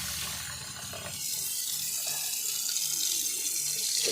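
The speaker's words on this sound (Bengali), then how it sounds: "আর ভাতে জল ঢেলে রেখে দিই" Water pours steadily into a pot of cooked rice, a continuous close splashing stream that gets a little fuller partway through.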